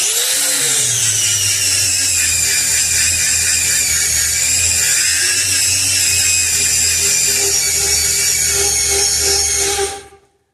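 A power drill grinds through metal with drill wax applied to the bit, a loud, steady high-pitched whine with a low hum beneath that runs continuously for about ten seconds before cutting off abruptly.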